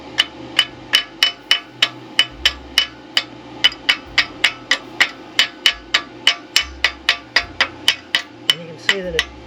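A hammer taps weld flux off a repaired tractor loader, a long run of sharp, evenly spaced metallic knocks up close, with a faint voice murmuring near the end.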